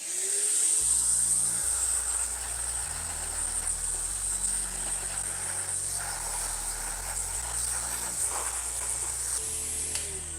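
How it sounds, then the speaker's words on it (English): A Henry vacuum cleaner sucks coffee grounds out of a Mahlkonig EK43S grinder, making a loud, continuous whining hiss with shifting tones as the nozzle moves about, and no talking. "We just like Henry vacuum cleaners."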